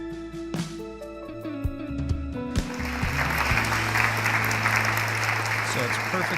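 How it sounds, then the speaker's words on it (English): At the City of Destiny Awards ceremony, sustained tones and a brief vocal bit open the moment. A crowd then breaks into loud, continuous applause that builds and holds to the end. "it's perfectly allowed to applaud and yell in here during this ceremony"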